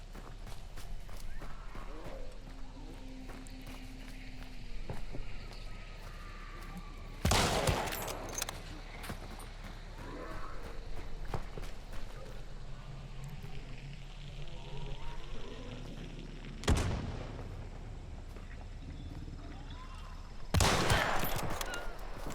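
Vetterli 71 Karabiner rifle shots in Hunt: Showdown firing FMJ rounds, three sharp loud cracks spaced several seconds apart, with footsteps and ambient game noise between them.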